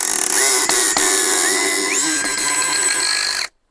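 ELTOS DA-16DFR BL 42 Nm brushless cordless drill driver on first speed, driving a screw into pine: a loud, steady motor whine with rising pitch shifts and clicks, running continuously for about three and a half seconds before stopping abruptly.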